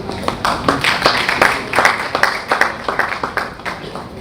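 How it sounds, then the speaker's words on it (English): Scattered clapping from a modest crowd, a steady patter of hand claps continuing throughout, moderately loud with some murmuring underneath. "A round of applause as we welcome the CP Niles for his opening remarks"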